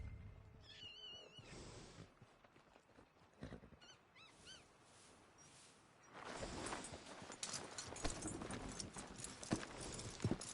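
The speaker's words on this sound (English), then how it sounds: "Are you gonna mount that new horse of yours or not?" Horse hooves in Red Dead Redemption 2 start as scattered clops, then turn into a denser, louder rhythmic clip-clop once the horse gets moving in the second half.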